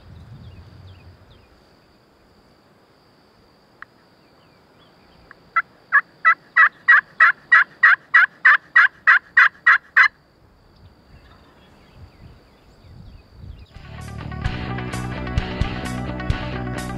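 A Rio Grande turkey gobbles in a rapid burst of about a dozen notes, clear against quiet surroundings in Texas Hill Country, followed later by a rush of gusty wind noise.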